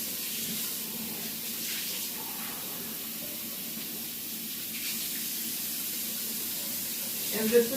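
Water runs steadily from a tap into a pot while collard greens are being cooked, a faint, even hiss that stays constant throughout with no talk over it.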